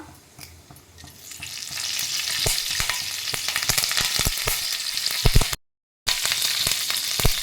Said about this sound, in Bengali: ফোড়নটা ভাজা ভাজা হয়ে গেছে, তোমরা দেখতেই পাচ্ছ সব ছিটকাচ্ছে